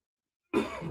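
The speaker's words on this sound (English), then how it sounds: "It was actually a cough." A single short cough bursts out of silence, close and moderately loud.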